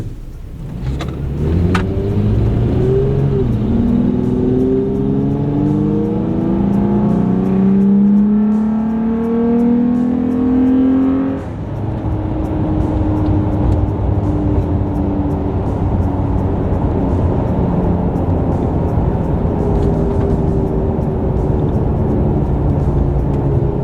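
Toyota Tacoma fitted with a pedal commander and cold air intake accelerating hard in Sport Plus mode: a loud engine note climbing in pitch through gears with a brief shift dip, then a sustained roar.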